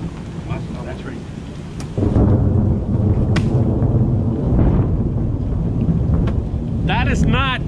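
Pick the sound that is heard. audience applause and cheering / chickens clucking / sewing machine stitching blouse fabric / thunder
thunder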